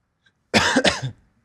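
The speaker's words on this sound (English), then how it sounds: "the first thing you had to hear was me coughing" One close, harsh cough burst, a double hack lasting about half a second, after brief silence.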